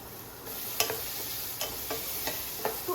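Vegetables added to cumin and ghee in a hot pan, a steady sizzle with several sharp scraping stir strokes, close and moderately loud, no talking.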